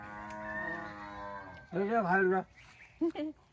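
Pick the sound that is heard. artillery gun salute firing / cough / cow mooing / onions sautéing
cow mooing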